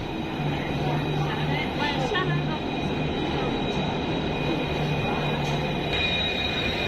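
A train at Solapur railway station gives off a steady, loud rumble with a faint high whine. Muffled voices sit in the background throughout.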